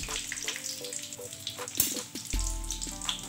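Pieces of tofu pong, the Sumedang-style fried tofu, sizzle and crackle in hot oil on a stovetop, a steady close frying hiss with occasional tones and a louder burst near the end.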